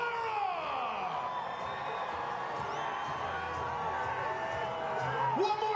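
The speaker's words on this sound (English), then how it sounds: "Cheer them on as they make their way to Santa Clara" A dense crowd at a New England Patriots send-off rally before the Super Bowl cheers and whoops steadily, loud and continuous, with scattered shouts rising above the roar.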